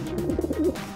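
Pigeons coo loudly and close by as they are fed bread, a low warbling call rising and falling over about a second, with no talking.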